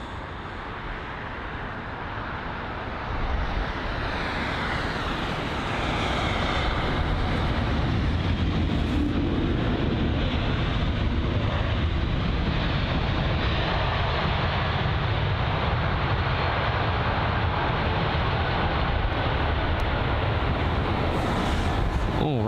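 An Air Baltic Airbus A220-300 lands at London Heathrow, heard as a steady, loud broadband roar from the airliner that swells after a few seconds and holds without a break, with no voices over it.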